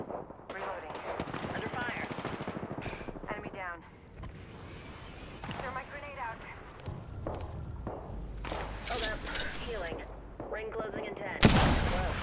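Gunfire crackles through a video game battle royale match, sharp shots and bursts scattered among frequent talk, with a loud blast near the end.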